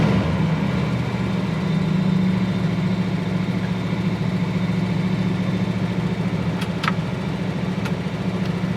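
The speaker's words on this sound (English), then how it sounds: "Give it a little rev." A 1972 Dodge Challenger engine idles steadily, a loud, close, deep rumble that holds even throughout with no distinct rev, plus a few faint high clicks near the end.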